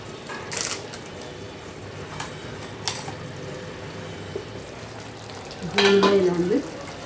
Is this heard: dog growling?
no